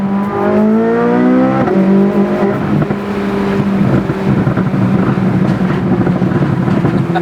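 A 2023 Corvette Z06 engine revs loud and close, pitch climbing in steady sweeps through the gears and then settling into a sustained high drone, with no talk over it.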